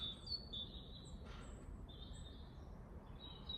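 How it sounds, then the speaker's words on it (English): Faint high bird chirps and thin whistled notes repeat intermittently over a quiet, low outdoor rumble. "hopefully you can hear the birds"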